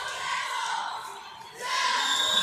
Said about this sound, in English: Crowd getting loud.